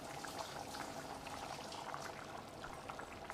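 Mutton curry (kulambu) simmers and bubbles quietly in a pot, a soft continuous burble of boiling liquid with no talking.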